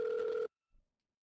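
A telephone ringback tone sounds once on an outgoing call: a short, steady buzzing burst of about half a second that cuts off into silence, followed by a faint click.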